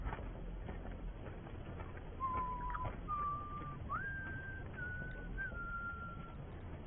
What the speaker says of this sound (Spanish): Deja de silbar, me estás poniendo de muy mala hostia.